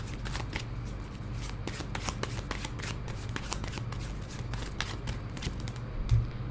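Tarot cards being shuffled close up in a steady run of crisp riffling snaps and soft slaps that continues without pause, with no one speaking.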